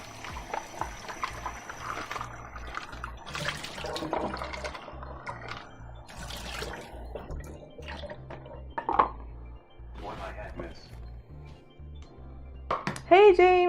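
Radishes get rinsed under running kitchen tap water while cooking quinoa salad, with splashing, dripping and clattering of dishes and utensils through the stretch, and a person talking over parts of it.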